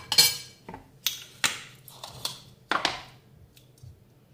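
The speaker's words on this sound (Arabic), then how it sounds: "غادي نجبد معلقه" A metal spoon clinks against dishes and utensils in a series of sharp, close taps and rattles, about eight irregular strikes with quiet gaps between them.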